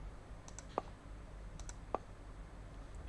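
Two sharp, isolated mouse clicks about a second apart, the first near the start and the second later, over a quiet low room hum with no talking.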